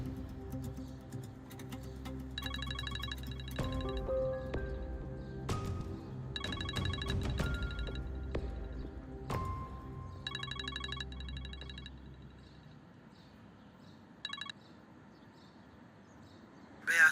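A telephone rings indoors in repeated electronic trilling bursts, several rings spaced a few seconds apart over a low background rumble, then falls quiet.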